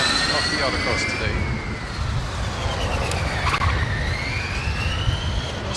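A Formula Student race car makes its autocross run at a Formula Student Germany event, its engine note rising and falling as it passes through the course, with a loud, rumbling background throughout.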